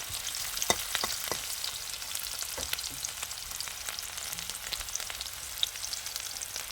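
Onion and panch phoron frying in oil, a soft steady crackle and sizzle with a handful of sharp spoon clicks, fairly quiet and near, with no voices.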